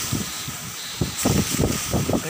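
Heavy rain driven by strong wind lashes against a wooden house, a steady broadband hiss with gusty surges that swell and fade, loud and close throughout.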